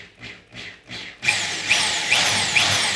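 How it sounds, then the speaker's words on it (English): A corded hammer drill drives bolts into an aluminum camper cap on a vehicle, first in three short pulsing bursts, then in a loud sustained whine with rhythmic surges as the bolt bites. No talk. "I'm using a wired drill because I want the torque. This is a hammer drill."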